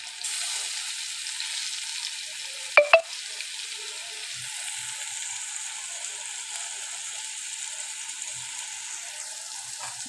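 White brinjals sizzle steadily as they fry with turmeric and ginger, a continuous close crackle with two sharp knocks of a spoon stirring the pan midway; no talking.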